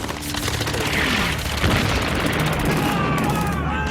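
Artillery bombardment with shells exploding, a dense rumbling barrage of booms and crackling blasts that rolls on without pause, loud and sustained throughout.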